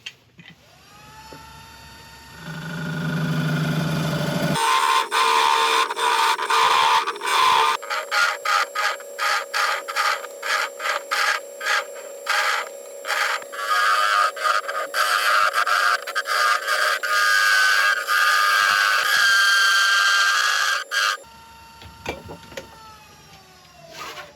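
Wood lathe turning a small wooden hollow form without special tools, a steady mechanical whir with rapid scraping and chattering bursts as the tool cuts, loud and close, winding down at the end.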